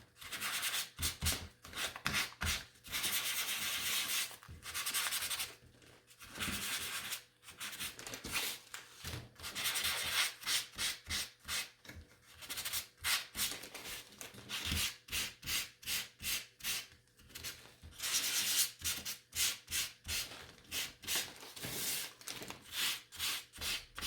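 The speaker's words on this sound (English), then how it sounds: "Now I want to make sure this is sanded" Hand sanding of a wooden sign, with repeated back-and-forth scratchy rubbing strokes in steady bursts and short pauses, close and fairly loud, with no talk.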